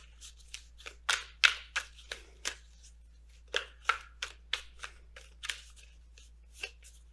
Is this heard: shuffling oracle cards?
yes